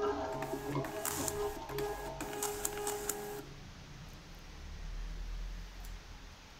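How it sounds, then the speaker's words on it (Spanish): A label printer outputs a barcode label, giving a few seconds of busy mechanical whirring and clicking that stops abruptly, leaving a quiet room hum; no one speaks. "mandamos a impresión, en este caso a la impresora también de etiquetas"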